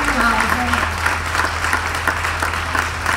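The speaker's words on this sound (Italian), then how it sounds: "Sì, merita un grande applauso." An audience at a live music performance in Rome applauds in a continuous patter of clapping, while a voice talks briefly near the start and a low steady hum runs underneath.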